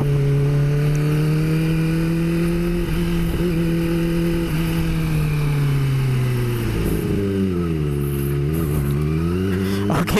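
A Kawasaki ZX25R 250cc motorcycle engine idles steadily, then revs up and down in a few surges near the end, loud and close.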